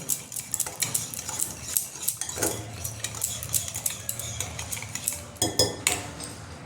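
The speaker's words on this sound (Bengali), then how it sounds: "এটা দিয়ে আমি ভালো করে এবার মেশাবো" Sugar and ghee mixed with a spoon in a bowl, with rapid repeated scraping and clinking of metal against the dish, close and continuous with an uneven rhythm.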